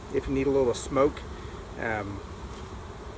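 Honeybees hum steadily around an open hive during a walk-away split, a close, continuous buzz running under a man's spoken instructions.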